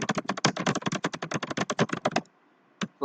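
Rapid keystrokes on a computer keyboard while writing a LaTeX document, a fast irregular run of close clicks for about two seconds, then a pause and one last tap.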